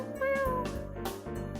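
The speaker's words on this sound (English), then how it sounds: "there was a kitty coming closer. And there was a kitty coming closer. Meow." Stray cat in a park, a close, clear meow repeated about three times in quick succession, each call rising then falling, with no talk over it.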